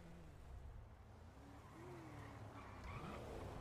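A car in a role-play video game skids with squealing tires while being driven fast, a faint continuous screech and engine rumble with no talking.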